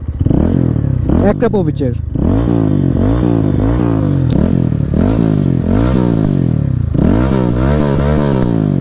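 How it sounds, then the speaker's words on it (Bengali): Modified Lifan KPR 165 motorcycle with a dB-killer-fitted exhaust, stationary, revved repeatedly in loud rising-and-falling bursts, about seven pulls in quick succession, close by with a voice briefly speaking over it. "এক্সস্টের সাউন্ডটা শোনাই বসা অবস্থায়"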